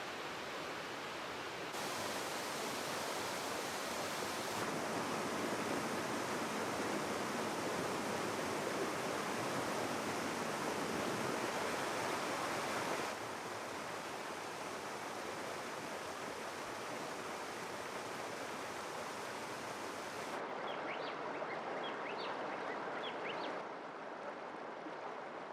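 River water flows in a steady, broad rushing wash that stays even and continuous, close and moderately loud, with a few brief changes in texture.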